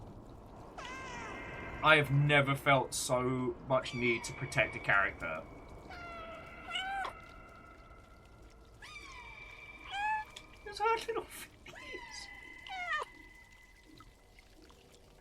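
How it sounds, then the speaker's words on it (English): Several cats in the video game Stray give high, pitched meows in bursts and drawn-out calls, some overlapping, over a quiet background while a person talks excitedly between them. "The other cats are meowing down!"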